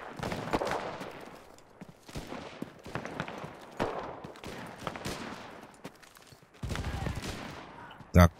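Bursts of rapid gunfire and explosive shots in the video game Enlisted, Battle for Tunisia, several volleys with gaps between, fairly close and loud.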